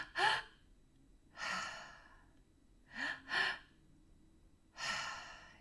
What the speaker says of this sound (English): I'm breathing in from my belly, my solar plexus system, like root to belly, right to my heart.